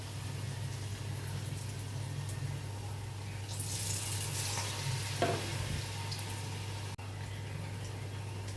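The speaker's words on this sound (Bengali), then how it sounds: "চিকেন পকোড়াগুলো ভালো করে বেসনের গোলায় ডুবিয়ে নিয়ে একটা একটা করে ভেজে নেব" Oil bubbles and sizzles with a soft, steady hiss over a low humming drone, swelling briefly as gram-flour-battered chicken pakoras go in and get stirred.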